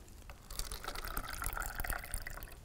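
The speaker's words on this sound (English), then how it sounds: "take a glass, pour some water into that" Water poured into a glass while making lemonade, a steady close trickle and fill lasting a couple of seconds, with no one talking.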